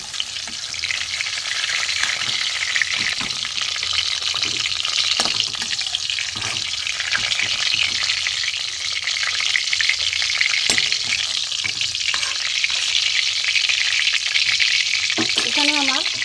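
Pointed gourd slices frying in hot oil give a steady, loud sizzle with crackling bursts that runs unbroken throughout, with no voices heard.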